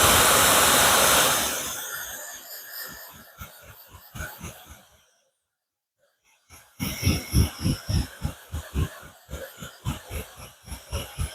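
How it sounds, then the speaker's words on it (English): A handheld hair blow dryer drying freshly set face makeup, a steady loud whooshing roar that fades out, goes silent briefly, then returns in pulsing bursts as it moves close and away. "And then I dry that with my blow dryer."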